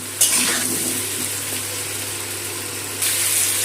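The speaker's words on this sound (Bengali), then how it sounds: "নুন হলুদ আলুর সাথে মিশিয়ে নিয়ে আলুটা ভালো করে লাল করে ভেজে নেবো।" Potatoes mixed with salt and turmeric fry in hot oil, giving a steady, loud broadband sizzle that holds throughout with a slight surge near the end.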